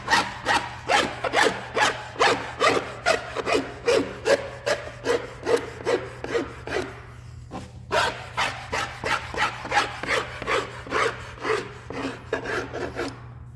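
Steady back-and-forth rasping of a file scraping along a laminate countertop edge, a long run of rhythmic strokes, a brief pause, then another series of strokes, close up.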